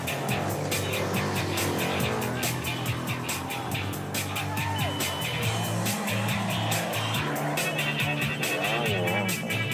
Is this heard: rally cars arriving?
yes